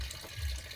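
Water runs steadily from a faucet into a container, a soft continuous rushing with a low rumble, close by and alone without talk.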